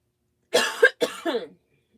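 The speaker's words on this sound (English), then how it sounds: "I had to cough for no reason whatsoever." Two sharp coughs in quick succession, close and fairly loud, followed by silence.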